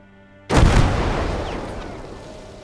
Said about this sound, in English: So I throw the grenade